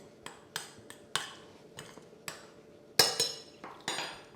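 Flour and baking powder being stirred together in a bowl for a homemade sponge cake, heard as a series of sharp clinks and taps of a utensil against the bowl, close and fairly loud, with no talking.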